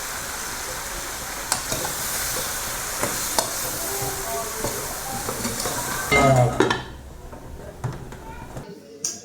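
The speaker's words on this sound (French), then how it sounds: "je rajoute un peu de l'eau chaude" Hot water poured into a pan of pork tail massalé with eggplant, with steady sizzling and frying hiss that swells into a loud bubbling surge before the heat drops away, with a voice talking over it.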